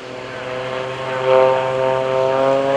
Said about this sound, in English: Here he comes back inbound, 350 horsepower up front on his MX-2